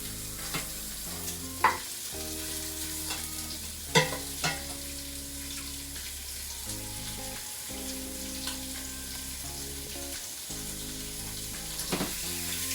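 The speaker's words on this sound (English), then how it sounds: "You hear it sizzling." Hot Italian sausage sizzles and crackles in a hot pan as it browns, a steady frying hiss broken by occasional scrapes and stirring knocks.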